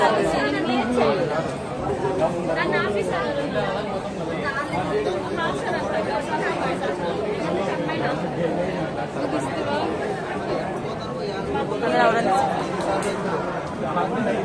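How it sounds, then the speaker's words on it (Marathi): Dense crowd chatter fills a crowded queue at the Tirupati Balaji temple, many voices overlapping into a constant near babble with no pauses. "जाम लाईन आहे भरपूर गर्दी आहे"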